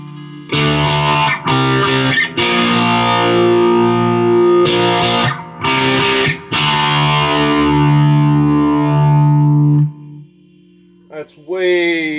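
Distorted electric guitar phrases through a modded MXR Phase 90 pedal in script-logo mode play in bursts with a sweeping, swirling phaser effect, sustaining notes before fading into a short pause.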